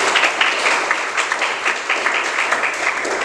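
A school class of twelfth-grade students claps together, a fairly close, brisk burst of many hands with slight rhythmic pulses, sustained for a few seconds.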